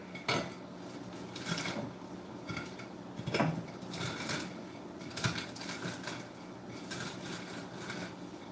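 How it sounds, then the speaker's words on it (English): Cooked bacon crushed by hand for Halluski with ham, giving a run of dry crackling, clattering bursts with small knocks against a dish, spaced irregularly and close, with no talking. "I'm going to go ahead and crush this up real quick"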